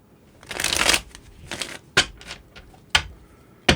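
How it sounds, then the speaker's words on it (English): Tarot cards are shuffled with a long riffling burst, then shorter riffles and a few sharp snaps and taps as the deck is squared, no talking. "3 more shuffles, and let's begin."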